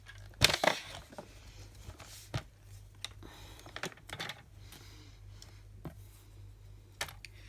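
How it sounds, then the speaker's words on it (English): Scissors cutting fringing into a piece of card for a stamping craft project: a few crisp close snips, one louder cut near the start and lighter clicks after, quiet and without talk. "I think I'll just cut this down the middle."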